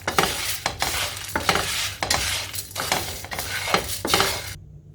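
Chili powder and salt stirred in a hot pan as the flame is switched off, with repeated scraping strokes of a spoon across the pan and a soft sizzle underneath, close and steady, then a sudden stop.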